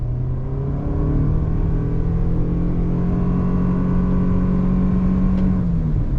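A 2021 Toyota Sienna Limited minivan with a CVT accelerates from a slow roll under throttle, its engine drone holding a steady, rising-then-level tone throughout, heard from inside the cabin.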